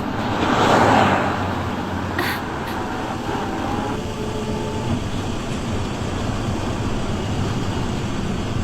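A car passing on a road, a broad rushing roar that swells in the first second and then settles into a steady wash of traffic noise, fairly loud and close.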